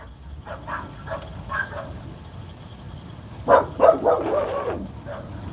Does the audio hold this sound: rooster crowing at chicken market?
no